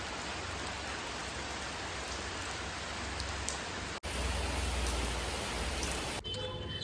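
Steady rain falling, a dense continuous hiss of drops on surfaces, moderately loud and unbroken apart from a brief cut midway, with no voices.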